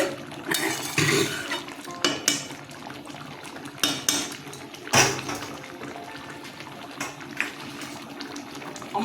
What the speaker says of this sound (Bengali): দেখুন কেমন ফুটছে